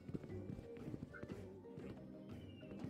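Horse hooves clip-clop in the Pirate 101 video game, a steady run of quick taps mixed with game sounds and other ambient noise at a moderate level.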